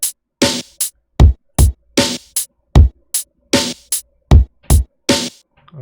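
Lo-fi hip hop drum beat programmed in LMMS, with punchy kicks, snares and closed hi-hats in a steady, clean repeating pattern, loud and alone without talk.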